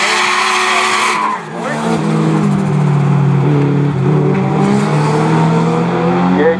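Race cars charge hard through turn one with loud engine roar and squealing tires, sustained throughout, and a commentator talks over the noise.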